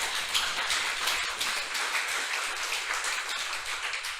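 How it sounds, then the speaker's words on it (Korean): A church congregation at a Sunday worship service in Cheongju gives soft, continuous applause of thanks, the many hands clapping at a distance and fairly quiet. "감사의 박수 한번 보내주셨으면 좋겠습니다"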